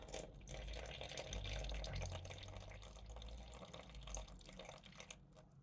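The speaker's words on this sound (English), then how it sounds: "Water." Water pours steadily from a tap into a sourdough mix, a soft, continuous splashing trickle at close range that eases off near the end.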